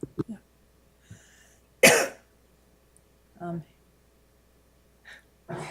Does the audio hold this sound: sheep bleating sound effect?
no